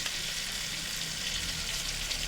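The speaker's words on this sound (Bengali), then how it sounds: "টমেটোটাকে একটু ভেজে নেব।" Tomato frying in a pan while cooking a pointed gourd dish, a steady, soft sizzle that holds evenly throughout with no talking.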